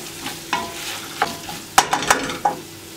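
Tomato paste stirred into a hot pan sizzles softly while a spoon scrapes and taps the pan in irregular strokes, close and alone.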